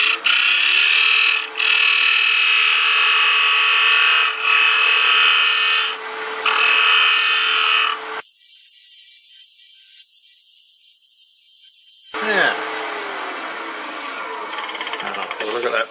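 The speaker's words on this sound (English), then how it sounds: "Now we'll just take a little dual chisel and tidy up the outside, finish it off, and we'll sand it." A wooden flower is worked by hand, with loud, close rasping chisel strokes in uneven bursts, followed by a thinner, steady sanding rub and a few scraping passes.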